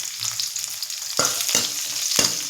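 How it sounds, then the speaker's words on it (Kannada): Chopped onion frying in hot tempering oil for a chayote kootu, giving a steady, close sizzle broken by three distinct scraping stirs of a spoon against the pan. "ಒಗ್ಗರಣೆಗೆ ಅಂತಲೇ ಒಂದು ಸ್ವಲ್ಪ ಈರುಳ್ಳಿ ಚಿಕ್ಕದಾಗಿ ಕಟ್ ಮಾಡಿ ಇಟ್ಕೊಂಡಿದ್ದೀನಿ. ಅದು ಕೂಡ ಹಾಕ್ಕೊಂಡು ಫ್ರೈ ಮಾಡ್ಕೊಂಬಿಡೋಣ"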